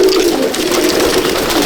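Pigeons coo in a loft in Kolkata, a steady low murmuring drone of several birds heard close and continuous, with no talking.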